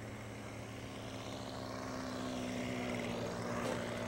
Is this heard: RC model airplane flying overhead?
yes